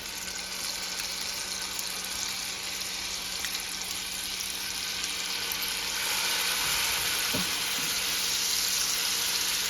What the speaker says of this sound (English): And we're gonna cook the shrimp.